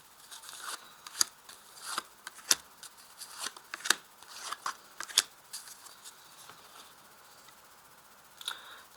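Tarot cards being laid out one by one on a table during a French love-reading session: soft slaps and brisk shuffling snaps at irregular intervals, close and fairly quiet, with no talking.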